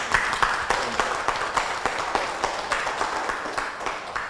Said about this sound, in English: he deserves a round of applause from us